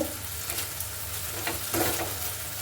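Paneer fries with salt and turmeric in a hot pan, giving a close, steady sizzle with brief bursts of louder stirring scrapes.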